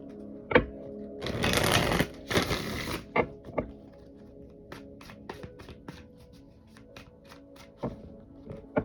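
Tarot cards are shuffled, giving two bursts of riffling followed by a series of soft, evenly spaced taps and snaps as the deck is handled close up.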